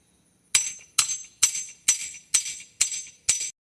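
Seven sharp, evenly spaced metallic hammer strikes on garden posts being driven into the ground ring out one after another, each with a bright clanging decay.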